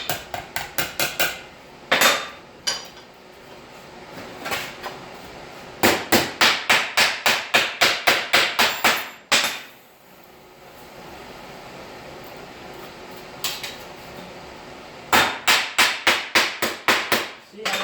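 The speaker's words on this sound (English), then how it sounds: "I'll just have to keep stretching it and hammering it" Rapid bursts of metallic hammer strikes shaping a metal drip rail for a vehicle, close and loud, coming in quick runs separated by short pauses.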